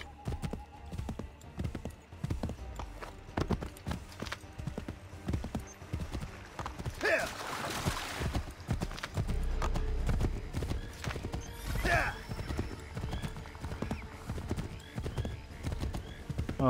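Horse hooves clip-clop in a steady rhythm in Assassin's Creed III, with a neigh or two breaking through, set against a quiet game soundscape with a voice speaking occasionally.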